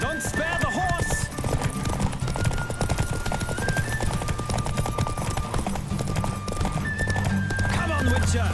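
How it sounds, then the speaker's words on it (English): Galloping hooves drum continuously in The Witcher 3 as a horse races along, with occasional whinnies and layered music underneath. "Don't spare the horse!"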